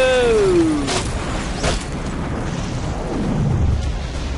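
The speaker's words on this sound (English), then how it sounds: "That explosion came from the shower room." An in-game explosion from the Watchmen: The End is Nigh video game, a loud rumbling blast with a falling whistle-like tone at the start, then a sustained roaring, crackling wash that slowly fades.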